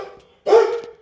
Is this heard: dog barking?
yes